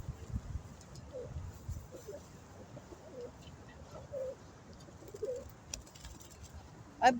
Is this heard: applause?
no